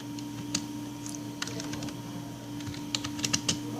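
Fingers type a fastboot command on a computer keyboard, a quiet, uneven run of key clicks over a faint electrical hum, bunching into a quicker burst of taps near the end.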